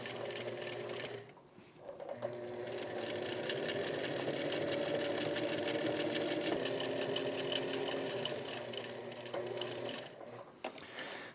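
A sewing machine steadily stitches buttonholes on a band-collar button-up shirt, running continuously and fairly close, with a brief pause near the start and a stop near the end.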